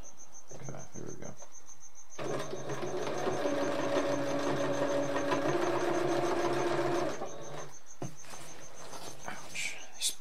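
A sewing machine stitching fabric for a custom surfboard bag, its motor whirring steadily for about five seconds, with quieter handling noises before and after.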